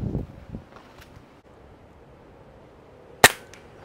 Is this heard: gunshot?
yes